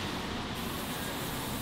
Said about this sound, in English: Atmospheric spray.